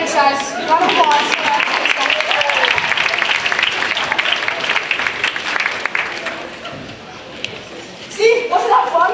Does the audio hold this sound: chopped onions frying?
no